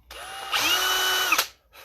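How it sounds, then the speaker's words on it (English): A 5/64 drill bit boring a hole, marked with tape for depth: a close power-drill whine that spins up, holds steady for about a second, then winds down after a brief bump as the bit stops. "I'm going to go ahead and drill this hole in."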